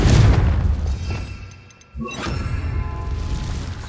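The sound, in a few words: Confringo blasting curse explosion from a Harry Potter video game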